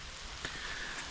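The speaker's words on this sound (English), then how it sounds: "it starts to rain." Light rain beginning to fall outdoors during car hauler trailer repair work, a soft steady patter of drops spread across the whole second with one slightly sharper tap partway through, faint and close with no voices.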